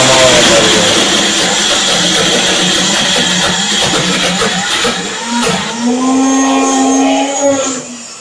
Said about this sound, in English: And I'm just going to blend them all together.